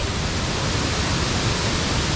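Krok E-Dok waterfall at Khao Yai, about 300 metres tall, roars as a steady, loud broadband rush of falling water with no breaks or voices.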